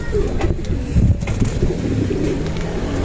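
Racing pigeons just home from a 13-kilometer toss coo softly nearby in a loft, low murmuring calls over faint background noise, with a brief bump of movement partway through.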